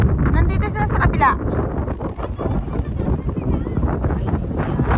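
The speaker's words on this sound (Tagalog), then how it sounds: "lakas ng hangin, tsaka lakas ng waves" Strong wind on Po Toi Island in Hong Kong buffets the microphone in heavy, continuous rumbling gusts, with waves washing in beneath and brief voices at the start.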